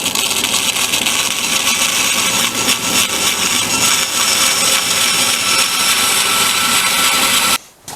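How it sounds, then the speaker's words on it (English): A bandsaw slices through marine plywood for a bird feeder roof piece, a loud steady broadband whine running continuously for about seven seconds before cutting off abruptly near the end. "I think I'm going to try that on the bandsaw."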